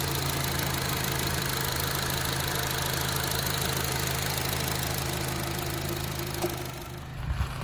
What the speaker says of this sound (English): Four-cylinder engine runs nice and smooth.